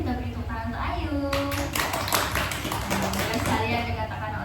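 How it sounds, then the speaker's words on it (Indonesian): A classroom group claps for a student, brief bursts of hand claps mixed with children's voices chattering nearby, moderately loud and close. "kita beri tepuk tangan untuk Ayu."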